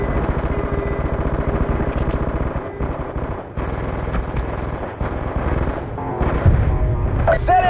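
Call of Duty: Black Ops 2 Strike Force battle at FOB Spectre, with loud, dense machine-gun fire rattling almost without pause and heavier booming shots mixed in.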